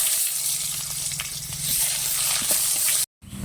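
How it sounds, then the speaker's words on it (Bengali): Chopped onions frying in a pan with dried red chili and black cumin, a steady close sizzle with faint scrapes, ending in a short silent gap. "পেঁয়াজ ভাজা হয়ে গেছে"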